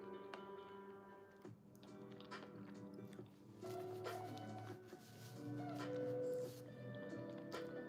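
Close crunchy bites and soft chewing of a Togo's hot pastrami sandwich topped with West Coast pretzel sprinkles, quiet and repeated beneath faint background music.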